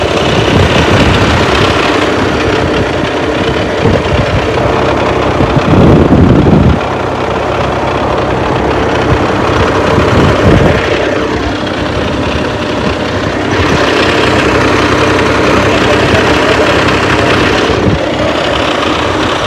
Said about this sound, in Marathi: पप्पा पण आले ट्रॅक्टर घेऊन